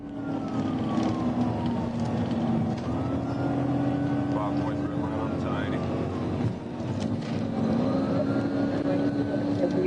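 A car accelerates hard while weaving through traffic during a police pursuit, its loud, continuous engine roar rising in pitch and joined by wailing sirens throughout.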